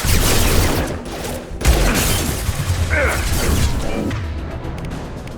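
Mass Effect 2 combat gunfire: loud, dense bursts of shots mixed with crashing impacts that keep going throughout, thinning out toward the end.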